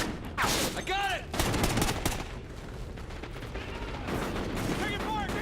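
Rapid automatic gunfire from a Call of Duty Ghosts firefight, loud dense bursts of shots continuing throughout with brief whizzing tones overhead and shouted voices mixed in.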